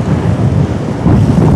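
Strong wind roars across a cold seashore in Anapa with waves and spray crashing close by, a loud, continuous broadband rush of surf and gusts buffeting the microphone, with no voices.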